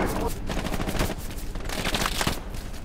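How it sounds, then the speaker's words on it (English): Dense gunfire from many shooters in the World War II video game Hell Let Loose, rapid overlapping bursts and cracks in a continuous fusillade at fairly close range, with brief voices underneath. "An American looking at across the field getting shot at by like 20 people"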